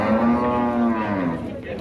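A dairy cow at a cattle market in Dois Riachos, Alagoas, gives one loud, close, drawn-out moo lasting nearly two seconds, heard alone without talk.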